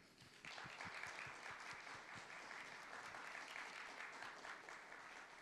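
A large audience at the 2022 Newsis K-EXPO in Seoul breaks into sustained applause after a brief quiet start. The dense, even clapping continues steadily to the end.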